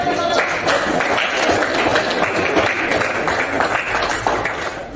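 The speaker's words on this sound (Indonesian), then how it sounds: "Oke, beri tepuk tangan." Classroom of students applauding a presenter, a loud, dense patter of many hands clapping close by that continues steadily and fades slightly at the end.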